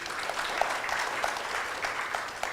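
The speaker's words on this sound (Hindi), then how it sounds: "उनके लिए एक जोर से ताली बजा सकते हैं" An audience at an inaugural session of an educational trust event claps steadily. The dense, continuous applause of many hands sounds moderately loud and slightly distant.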